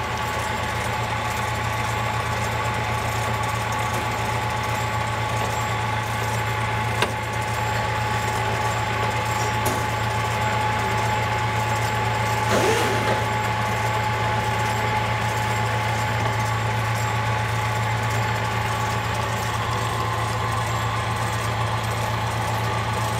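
A lathe cutting a single-point thread on a heavy spring pass in a college machine shop: a steady, continuous motor hum and drone with a faint tonal whine, one brief click partway through, no voices.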